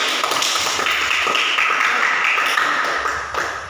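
Classroom applause for a student group, a dense close patter of clapping that holds steady and then fades slightly toward the end, with no clear talk over it.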